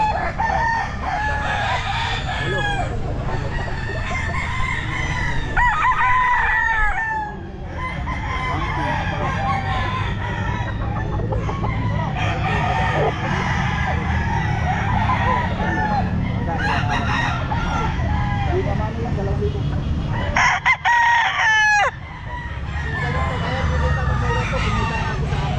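Stag roosters crow repeatedly at a busy pet market, their calls rising above crowd noise and people talking, with a brief louder burst near the end.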